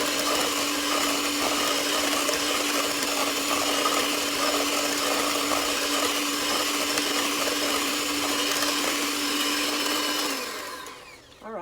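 Electric mixer whirring steadily through pomegranate muffin batter, a constant motor drone with a bright tone that runs for about ten seconds before winding down and stopping.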